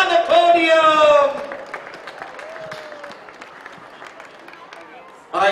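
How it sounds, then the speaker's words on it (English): Crowd applause for both polo teams on the podium after a match at The Villages Polo Club. Loud clapping at the start fades to scattered, quieter applause, with an announcer speaking over the crowd and a brief louder burst at the end. "Let's give both of them another round of applause."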